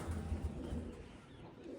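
Pigeons coo in low, soft pulses close by, faint and brief with no voices over them.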